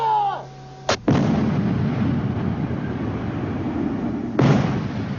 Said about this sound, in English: When you fire this 105mm gun